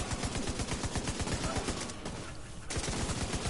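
Automatic gunfire in The Division 2, a dense, continuous rattle of rapid shots with a brief dip partway, loud throughout with voices mixed underneath.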